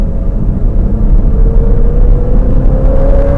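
A Superbee car on the Putnam Park race track, its engine a loud, continuous rumble with a whirring tone sliding slightly upward as it brakes hard to scrub speed.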